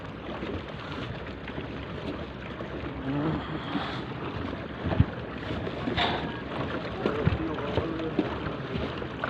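A boat crosses a river, with a steady low rumble of water and wind under faint distant voices and a few knocks.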